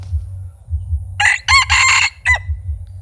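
A decoy fighting cock crows close by in one loud, strained call broken into several bursts, over a steady low engine-like hum.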